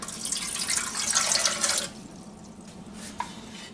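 Warm water pours from a cup into a bread machine pan for dough, a steady splashing rush for nearly two seconds before it stops, leaving faint drips.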